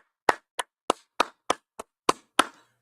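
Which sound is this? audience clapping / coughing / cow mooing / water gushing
audience clapping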